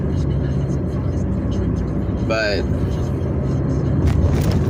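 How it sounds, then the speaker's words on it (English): Steady, loud road rumble fills a car's interior while cruising, constant engine and tire noise throughout, with someone speaking briefly over it. "right now I'm just driving around, just cruising."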